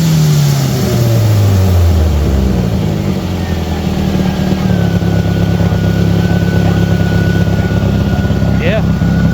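A long-sitting Ford Ranger truck engine idles steadily and close by, a low continuous rumble with a faint whine over it and a brief chirp near the end.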